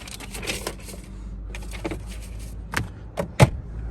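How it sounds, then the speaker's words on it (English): Rear door of a 2015 Subaru Forester 2.5L AWD wagon being opened: a soft latch click and rustle, then a sharper mechanical clunk and thud close by, with no talking. "I'm just going to open up the rear of the door now"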